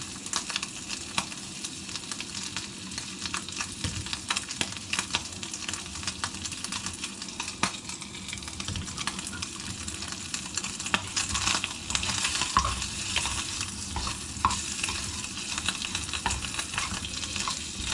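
Bacon frying in a camping pan, a dense, steady crackle full of tiny pops that carries on evenly at close range for the whole stretch, with nobody talking.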